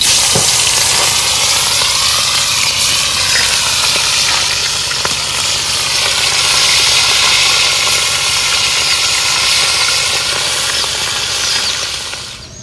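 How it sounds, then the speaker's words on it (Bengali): Fish fry in hot oil at an outdoor family khichuri picnic, producing a loud, continuous sizzling hiss that persists steadily before easing off at the end. "মাছগুলো ভেজে নিচ্ছি"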